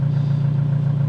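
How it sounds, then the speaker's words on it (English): A steady low van engine hum idles close by, constant and unchanging, with no voices. "That's the engine running."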